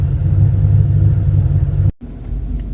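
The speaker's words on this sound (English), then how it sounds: "We're in our running, driving Mustang." A 1994 Ford Mustang convertible engine runs steadily while driving, a loud low rumble that cuts out abruptly for an instant before resuming, with no talking.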